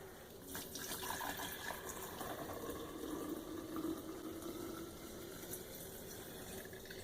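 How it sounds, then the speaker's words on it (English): Water pours steadily into a canning jar for sun dyeing, a soft continuous trickling rush that eases slightly toward the end. "And I'm going to top this up with water."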